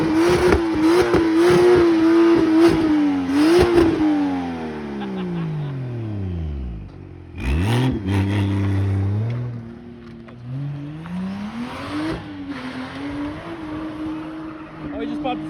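A V8-swapped Nissan S14 revs hard, holding a high steady drone and then dropping low. It climbs back up in repeated loud bursts, with a sharp burst of noise midway, under raised voices nearby.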